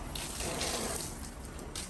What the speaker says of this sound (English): Functional flow, hot and cold water.